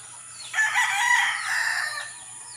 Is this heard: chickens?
yes